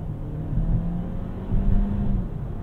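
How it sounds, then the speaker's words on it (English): A Volkswagen Taos 4Motion engine with a dual-clutch gearbox revs during a launch, a low, close, rumbling engine note that swells, dips and climbs again as the car accelerates. "So I'm just going to build up a little boost and let it rock."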